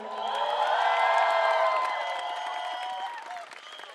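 An audience at a Manish Malhotra fashion show ramp walk cheers and applauds loudly, with whoops and whistles swelling early and then tapering off over a few seconds.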